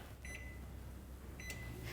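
A microwave oven heating carrots hums steadily, with two brief high electronic beeps from its panel near the start and again later.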